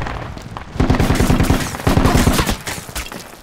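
Automatic gunfire in the infantry shooter game Project Reality: two loud, rapid bursts of shots, each lasting about a second, separated by a short pause and trailing into fainter shooting.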